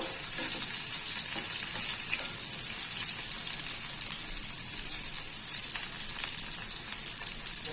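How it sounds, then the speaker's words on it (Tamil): Ingredients for Pallipalayam chicken sautéing in a pan, a steady, even crackling sizzle that continues unbroken at moderate loudness with soft stirring sounds. "நல்லா வதங்கணும்"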